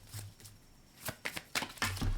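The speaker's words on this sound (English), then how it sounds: "Asking me to shuffle." Tarot cards being shuffled by hand during a reading, several short papery riffles and taps close up, spaced irregularly with brief pauses between them.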